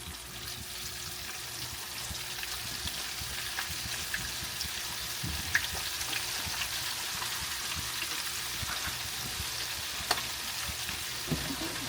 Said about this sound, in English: it fries good